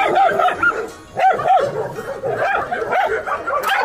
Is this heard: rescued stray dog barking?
yes